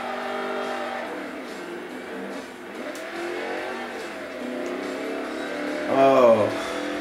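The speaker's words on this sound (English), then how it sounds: "What I love mostly from this car is its engine, which is a Ford Cleveland engine." De Tomaso Pantera with a Ford Cleveland engine in Forza Motorsport 3, a steady engine drone running throughout and building to a louder rev near the end, with a voice talking over it.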